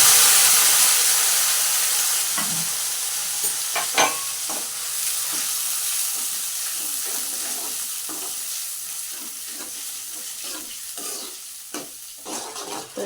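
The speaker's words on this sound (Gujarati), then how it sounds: "તો જો આમનામ આપણે એને હલાવતું રહેવાનું એટલે ડુંગળી ચડી જાય ને ત્યાં સુધી." Onion gravy with garlic sizzles steadily in a pan, a soft frying hiss broken by scraping taps of a spoon stirring, close and alone.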